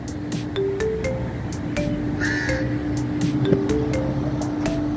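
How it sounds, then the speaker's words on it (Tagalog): Repeated crow caws ring out at irregular intervals, fairly clear, over a steady outdoor wash of wind or surf. "Naririnig niyo yung uwak."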